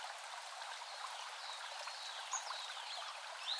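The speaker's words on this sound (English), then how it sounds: "We got an FX sample of birds in a forest with some water" Forest ambience of birds chirping over a steady wash of flowing water, a continuous soft bed with occasional brief high bird calls, moderately faint and with no voices.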